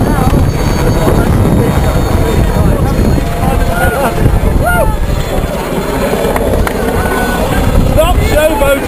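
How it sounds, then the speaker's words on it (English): A helicopter's loud whirring drone fills the clip continuously, buffeted by wind noise, with faint voices now and then underneath. "Code, you've lost your helicopter. It's gone."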